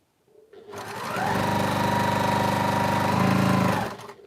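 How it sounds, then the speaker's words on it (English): A sewing machine runs close by in one smooth, fast burst of about three seconds, stitching fabric pieces together, with its motor ramping up at the start and winding down at the end. "I'm sewing those onto the edge of number 4."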